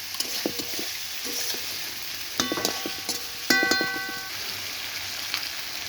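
Spicy red chicken frying in a pan crackles with a steady, soft sizzle, punctuated by a few metallic clinks and scrapes of a utensil against the pan, close by and without talk.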